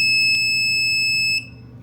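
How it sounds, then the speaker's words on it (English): A buzzer on a Heltec Wi-Fi LoRa 32 remote relay gives a steady, piercing high electronic tone that holds for over a second, then cuts off, with a faint click near the start. "Now I just turned on the buzzer"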